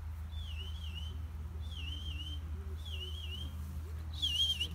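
A handler's command whistles to a Scottish sheepdog during a working demonstration, four short warbling high-pitched blasts spaced about a second apart, the last one louder, over a low steady hum outdoors.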